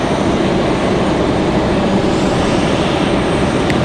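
An Air Canada airliner at Raleigh-Durham airport produces a loud, steady broadband engine roar that stays constant and close throughout, with no voices.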